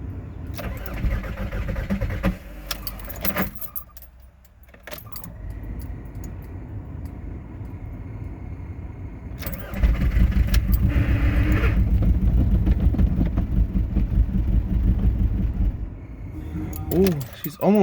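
A 2004 Volkswagen Jetta TDI diesel cold-starts in bitter winter cold: keys jangle, the starter cranks, then the engine catches into a loud, rattling idle, with a person talking over parts of it.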